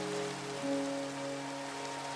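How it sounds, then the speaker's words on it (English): Rain falling in Minecraft: a steady, even hiss of rainfall that continues throughout, with soft sustained musical tones underneath. "It's raining. It just rained."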